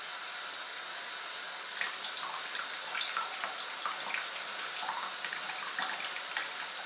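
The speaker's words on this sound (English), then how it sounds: "A good way to tell when sparging is finished is to have a sample of the liquor coming out of the" Liquor trickles steadily out of a tube during all-grain beer sparging, a continuous close splashing and gurgling water flow with small drips and spatters, no voices.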